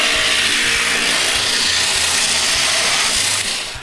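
A drum sander with sandpaper grinding a shaped piece of wood for a beading tool, a loud, steady rushing whir with a rhythmic low thump, easing off slightly at the very end.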